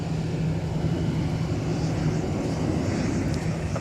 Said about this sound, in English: we just had an A321 taxi by right in front of us on taxiway Whiskey